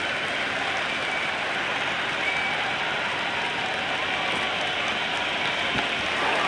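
Stadium crowd cheering at an India vs England T20 cricket match, a broad, steady roar of many voices and applause that fills the whole stretch without letting up.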